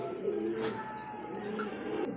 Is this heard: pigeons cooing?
yes